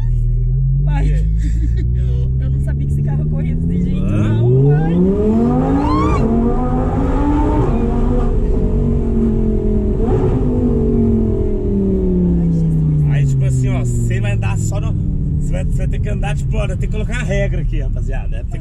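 An Audi R8 sports car engine roars close and loud, its pitch climbing through several gear-like sweeps and then easing down, with a tire squeal and people talking over it.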